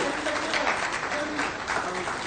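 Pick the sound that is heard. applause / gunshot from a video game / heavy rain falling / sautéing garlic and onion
applause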